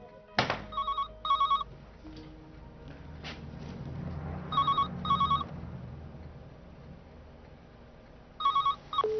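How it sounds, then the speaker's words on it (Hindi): A telephone rings in repeated double bursts, a bright electronic bell pattern separated by pauses, with a thump and low room sounds between the rings. "अच्छा किया जो फोन नहीं उठाया फरीदा।"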